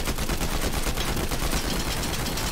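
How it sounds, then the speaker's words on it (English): Combat Assault Rifle in a video game firing in a fast, continuous automatic burst, dense rapid shots running steadily through the whole stretch at close range. "Man, it kind of feels like an SMG. It shoots fast."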